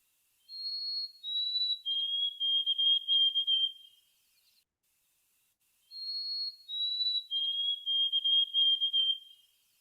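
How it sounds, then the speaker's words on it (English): White-throated sparrow song played from a recording, two clear whistled phrases each stepping down from a high opening note into a wavering held tone, repeated twice with a gap of silence between, clean and alone. "So that's the sound of the white-throated sparrow."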